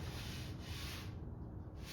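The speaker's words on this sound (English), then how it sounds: "One more final sanding" Final hand sanding of a wooden roll-out laundry cart, a quiet continuous rubbing hiss of abrasive on wood, faint and close, with no speech.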